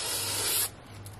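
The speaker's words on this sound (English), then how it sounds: "I use Blair Very Low Odor Workable Fixative, and I'm going to give everything a quick spray" A short, loud hissing burst from an aerosol can of Blair Very Low Odor Workable Fixative sprayed over a pastel painting, cutting off abruptly into quiet room tone.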